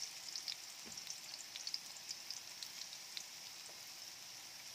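Ginger goes into a pan of frying food for ginataang kalabasa, producing a faint, steady sizzle with occasional soft pops and a light tap or two, quiet and without talk.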